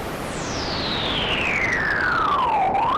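Moog Labyrinth synthesizer tone through a resonant filter, a steady sine-like tone with a bright resonant peak sweeping slowly downward over three seconds and turning back up at the end, sustained and fairly loud with no talking.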